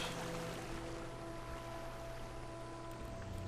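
Gentle water feature trickling inside a house in Guild Wars 2, a steady pouring, splashing wash with a few faint tonal hums underneath, no speech.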